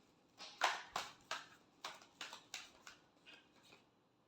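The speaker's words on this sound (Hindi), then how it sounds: "Last shuffle." Tarot cards being shuffled in a final shuffle: a run of about nine crisp riffling swishes in a steady rhythm, close and fairly quiet, with no voices.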